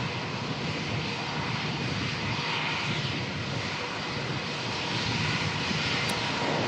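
A Jetstar Airbus A321neo at Melbourne, bound for Brisbane, produces a continuous, even jet-engine roar with a dense broadband hiss, loud and steady for the whole stretch, with no talking.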